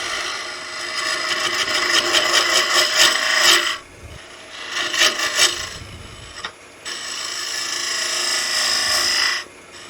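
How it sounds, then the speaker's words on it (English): A shop-made ball mill hollowing tool cutting into a wooden snowman box on a lathe, giving loud, close rasping grinds in three long bursts separated by brief pauses. "I'm going to go ahead and take the ball mill hollowing tool that we made"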